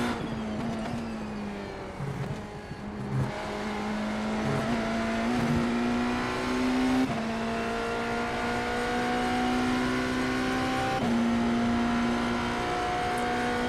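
A hypercar race car engine howls steadily at high speed on the Daytona track, holding a loud, sustained pitch that shifts up at a few points, heard from close by without speech.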